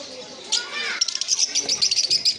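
Caged green fisher lovebirds chirp in a shop, giving rapid, shrill, overlapping tweets that grow busier after a moment, close by, with someone talking over them.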